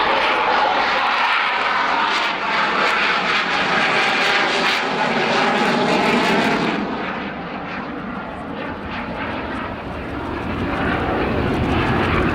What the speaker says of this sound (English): I think we're going to see him do a very slow fly past, about 25 degrees.